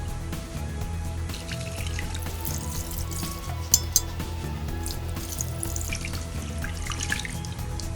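Tamarind juice poured into a pan of fish curry, a continuous splashing, trickling liquid sound with a few sharp clinks against the vessel, close and moderately loud with no talking.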